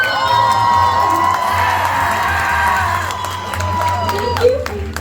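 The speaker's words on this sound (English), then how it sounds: "Can we also get a huge round of applause for Mr. Griffith and Mr. Raccoon?" Crowd at a Class of 2026 graduation ceremony cheers, whoops and applauds continuously, a dense loud roar with some higher shouts standing out throughout.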